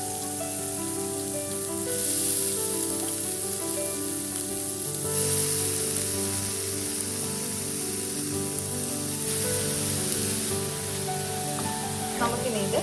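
Beetroot sizzling in a pan of fried mustard seeds for Kerala-style thoran: a steady hissing fry with bright crackle that swells and settles, heard close up while a voice speaks over it.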